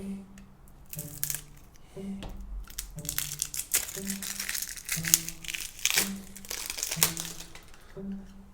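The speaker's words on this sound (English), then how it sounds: "now we have 4 decks of cards to open up here" Crinkly plastic wrapping being torn and crumpled off new decks of playing cards, close up, in repeated bursts with steady low tones underneath.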